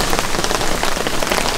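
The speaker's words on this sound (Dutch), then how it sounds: "Regen, regen en nog eens regen." Steady rain falls at a carp-fishing spot in France, a dense, even hiss of drops on surfaces, loud and close, with no voices.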